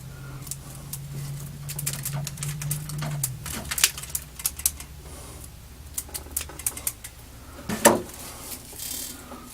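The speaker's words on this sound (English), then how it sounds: "you can take this end right here, just kind of cut it off. I use actually rose clippers to do that." Rose clippers snipping through broomstraw while making a broomstraw brush, a run of sharp crisp clicks and cuts close by, irregular and clustered, with a low hum underneath early on and one louder snap near the end.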